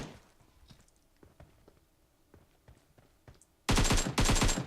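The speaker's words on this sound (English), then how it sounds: "Someone's shooting at me, I don't know from where." Rapid bursts of automatic gunfire in the mobile battle royale game PUBG Mobile, faint scattered shots at first, then two loud close sustained volleys near the end.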